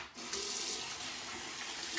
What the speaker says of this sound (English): Just do a quick cold water rinse.